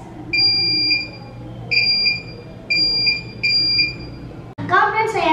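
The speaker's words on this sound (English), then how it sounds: "if they come near the door, the buzzer will ring automatically" A door alarm buzzer on a homemade sensor project model sounds in four repeated electronic beeping bursts with short pauses, followed by a brief voice at the end.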